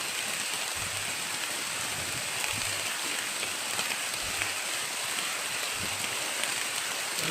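Steady rain falling in a video game, a constant broadband hiss with faint low rumbles underneath, continuous and fairly loud throughout.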